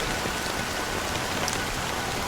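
Steady rain pours down in the Honkai: Star Rail game world, a dense, even hiss of drops on hard surfaces that stays constant and fairly close throughout, with no voices over it.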